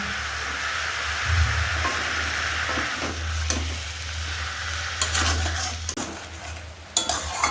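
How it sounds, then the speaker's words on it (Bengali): A spoon stirs banana flower curry with salt in a pan over a steady low sizzle, with occasional scrapes and clinks against the metal, close and moderate. "স্বাদ মতো নুন দিয়ে এটা ভালোভাবে মিশিয়ে নেব"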